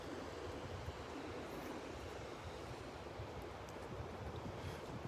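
Ocean surf breaks steadily on the beach beside Naples Pier, a continuous broad wash of waves mixed with wind noise on the microphone, with no voices.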